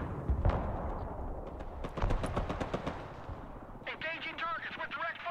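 Heavy artillery booms and machine-gun fire from the military strategy video game Broken Arrow, a thick barrage of rapid shots and blasts early on, easing later as a voice briefly speaks over the fighting.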